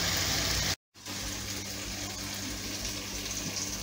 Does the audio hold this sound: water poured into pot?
yes